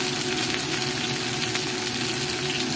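Fish pan-frying in a wok with little oil, a dense continuous close sizzle holding steady throughout with no talk.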